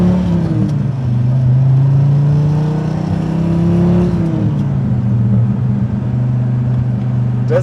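A 1999 Dodge Viper GTS ACR engine runs close and loud with a steady low growl, swelling into a brief rev near the middle before settling back to a strong, even drone. No talk is heard.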